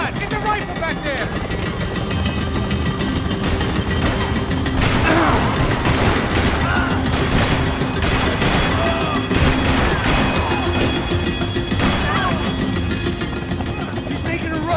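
Sustained rifle gunfire in Max Payne 3, sharp repeated shots crackling over a loud constant engine-like rumble, with characters shouting throughout.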